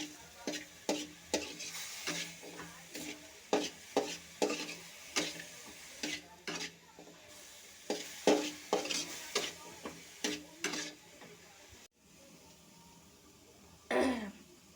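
Garlic and chilli frying in a pan, with repeated scraping stirs in a steady rhythm over a low sizzle, loud and close, pausing briefly near the end before one last stir.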